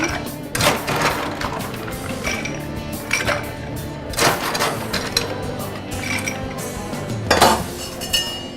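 A bar spoon clinks and swirls against glass while a Manhattan cocktail is stirred over ice, with light irregular metallic chinks and a few sharper knocks, fairly close.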